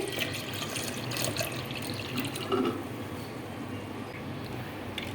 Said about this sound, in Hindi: इसमें हम 2 गिलास दूध डालेंगे,